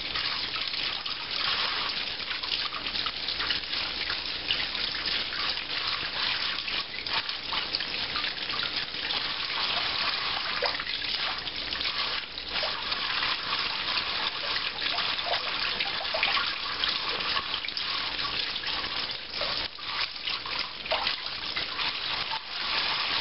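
Tap water runs steadily over green chili peppers being rinsed in a sink, a continuous close splashing gush that lasts the whole time, with only small shifts as the peppers move under the stream.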